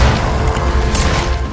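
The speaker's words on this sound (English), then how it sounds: "Shotguns are fun." A close, loud shotgun blast from The Darkness II, a heavy booming thump with a crashing, mechanical edge, dense and full over a brief moment with no talking.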